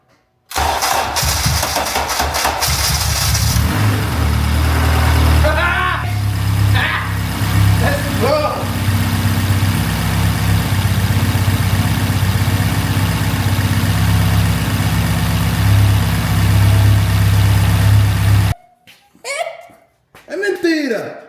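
A Honda EJ1 with a swapped-in K-series engine cranks and runs, a loud steady low rumble with revving swells for most of the stretch, then cuts off abruptly near the end as voices talk briefly.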